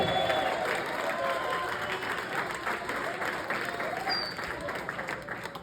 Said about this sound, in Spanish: Grítelo fuertemente y denle un aplauso.